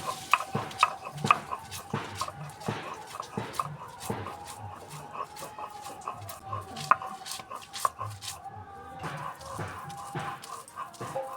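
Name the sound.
grinding thankuni (Indian pennywort) leaves into paste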